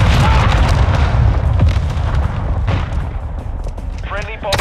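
Mortar strikes explode in a first-person shooter where a Glock 18 is used, with several heavy booms and sharp blasts in quick succession while voices talk over the action.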